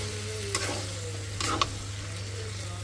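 Boiled tripe is sautéed in a wok, a constant sizzle with two distinct scraping stirs of a spatula, close and clear, and no one speaking.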